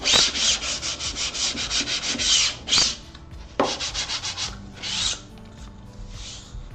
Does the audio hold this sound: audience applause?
no